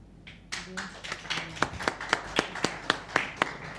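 Audience clapping while a contestant is congratulated at a ceremony, about a dozen sharp, evenly spaced claps in a steady rhythm, with a voice briefly audible at the start.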